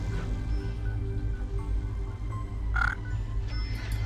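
An alien creature called a Greca-Targ in the space station game Startopia lets out a short croaking call over a low, constant ambient hum, with a couple of faint electronic chirps around it.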